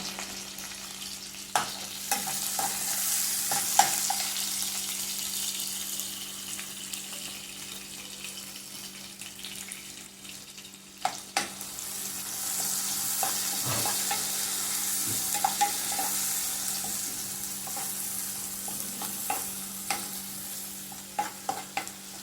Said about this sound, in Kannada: ಸ್ವಲ್ಪ ಶುಂಠಿ ಕೂಡ ಹಾಕ್ತೀನಿ ಮತ್ತು ಕಾಯಿ ಮೆಣಸು ಕಾಯಿ ಮೆಣಸು ಅಷ್ಟು ಹಾಕಿ ಚೆನ್ನಾಗಿ ಫ್ರೈ ಮಾಡುವ